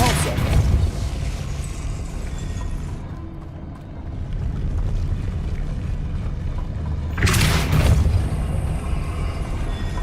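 A Depulso spell is cast in Hogwarts Legacy, giving a loud, broad whooshing burst of force near the end, with further rumbling magic effects and game ambience running throughout.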